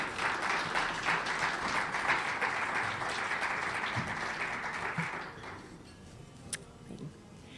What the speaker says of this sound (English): Please help me give him a warm round of applause.